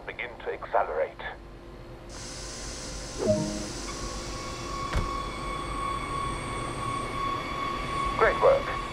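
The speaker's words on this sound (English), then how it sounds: "Move the power brake handle as required, and the train will begin to accelerate." Electric train pulling away and accelerating in the Train Sim World game, a steady high whine rising over a low rumble, with clicks and a brief clunk mid-way, speech at start and end.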